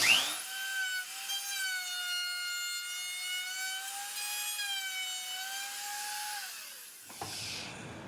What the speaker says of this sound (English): Take my finishing router,